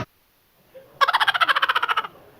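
Rapid, pulsing gobble-like fowl calls burst out loud and close after a short quiet lead-in, lasting about a second with a rattling, throaty cadence and no talk over it.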